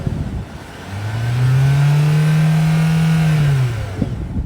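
A 2023 Hyundai Tucson Hybrid's 1.6-liter turbo hybrid engine revs up once, close and loud, holding a steady, rising drone for a couple of seconds before dropping back to idle.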